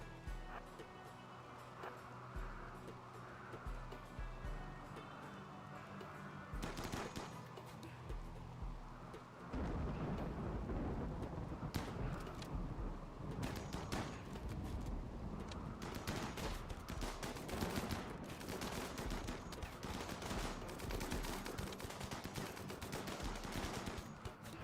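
Sniper rifle fire and other gunfire in the RimWorld video game, a long run of repeated sharp shots over a busy din that grows louder and denser partway through, with talk in places.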